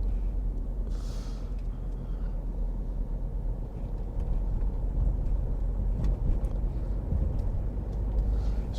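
A car drives along a rural country road through farmland between Coldred and Barham in Kent, with a steady low engine and road rumble continuing throughout at an even, moderately loud level.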